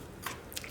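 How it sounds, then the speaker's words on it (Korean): Biting into crunchy salted radish for summer geotjeori kimchi, two quick crisp crunches up close, faint and brief, with no talk. "자, 무도 한번 먹어볼게요."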